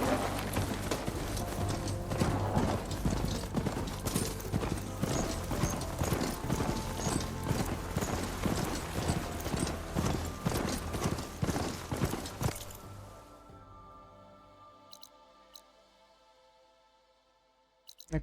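Horse hooves clip-clop in the video game Horizon Forbidden West, a loud steady galloping rhythm with rattling gear that runs for about thirteen seconds, then stops, leaving quiet ambience and a few faint clicks.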